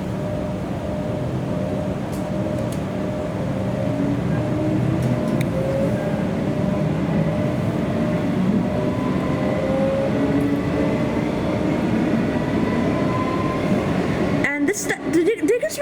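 A Comeng suburban electric train runs on the line from Sunbury toward Footscray, with a steady broadband rumble and wheel-on-rail noise throughout and tonal motor whine at near cabin level, ending in a burst of clattering at the close.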